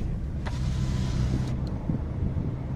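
A car drives slowly along a narrow mountain road above a steep drop in winter Spiti, giving a steady, close engine rumble with faint rattles and no talking.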